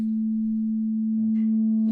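A synthesizer tone starts as a sawtooth wave and is filtered down into a nearly pure sine wave, giving a steady, loud, sustained hum with faint upper harmonics creeping back in near the end.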